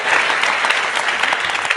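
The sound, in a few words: audience applause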